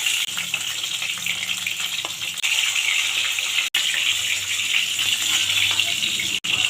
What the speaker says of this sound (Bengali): চলো এপিট ওপিট করে আগে মাছগুলো ভেজে নিই